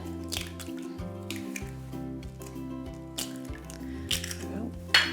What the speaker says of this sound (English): I'll crack the eggs in here.